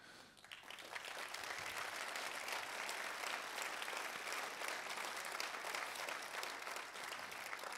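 A crowd breaks into steady applause, building quickly and continuing evenly, heard at a modest distance.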